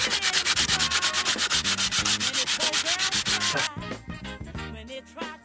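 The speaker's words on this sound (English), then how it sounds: "So I'm gonna have to use the sand block." Manual sanding of a wooden bench with a hand sanding block, fast rhythmic back-and-forth rubbing strokes repeating steadily up close for several seconds, then turning more uneven and quieter toward the end over faint background music.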